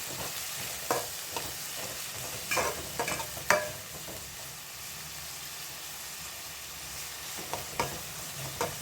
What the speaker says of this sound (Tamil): வெங்காயம் நல்லா வதங்கிட்டுருக்கு நல்லா வதங்கட்டு வெங்காயம்